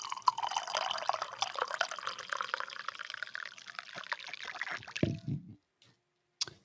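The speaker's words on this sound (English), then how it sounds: "Morning pour." Liquid poured into a cup in a continuous splashing, gurgling stream, fairly close, ending abruptly with a last few drips and a small knock before silence.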